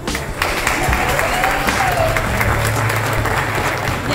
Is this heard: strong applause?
yes